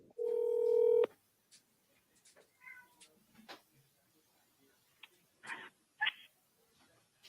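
A telephone placing a call gives one sustained dial tone lasting about a second, followed by near-silence broken only by a few faint, scattered clicks and small noises.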